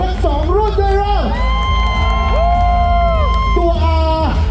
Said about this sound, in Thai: ขอเสียงปรบมือให้กับ Triumph ทั้งสองรุ่นด้วยเร็ว